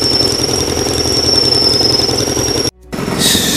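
A Wood-Mizer sawmill slicing a small maple log, with a loud steady engine roar and blade whine that briefly cuts out near the end before resuming with a hissing rush.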